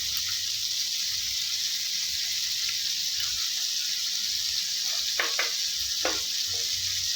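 Tandoori chicken fries in a pan on low heat as oil is added, a steady close sizzle with a few light clicks and scrapes toward the end, no talk.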